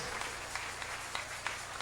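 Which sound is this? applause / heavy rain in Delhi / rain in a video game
applause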